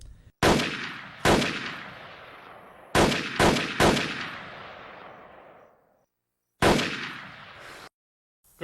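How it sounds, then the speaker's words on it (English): M16A2 rifle fired on a qualification shooting range in the video game America's Army: about seven loud single shots, each with a sharp crack and a fading echo, spaced irregularly with short pauses between them. "Today's task is to qualify with the M16A2 rifle."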